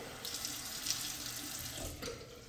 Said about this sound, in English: as I begin to wring out the soapy water